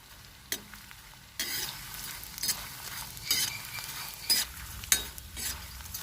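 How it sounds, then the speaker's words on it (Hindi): Edible gum (gond) fries in desi ghee in a pan, a steady close sizzle broken by several louder bursts as the pieces are stirred, with no talk over it. "गोंद को हमें सुनहरा होने तक तलना है।"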